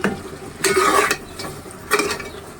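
Snakehead fish being stir-fried in a pan, soft frying sizzle under intermittent scraping strokes of a utensil stirring the pan, close and clear with no talking.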